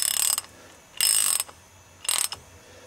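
Socket wrench ratcheting while tightening a transmission oil pan bolt on an M923 military truck, three loud close bursts of rapid metallic clicking separated by short pauses.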